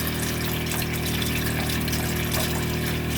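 Water gushes steadily and forcefully from a tap fed by a gas flow-through water heater, a constant close rushing noise with no pauses.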